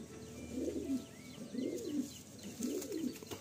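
A Kalasabuj pigeon in a home loft coos close by: three rolling, throaty coo phrases in a steady rhythm, with faint chirps of other birds in the background.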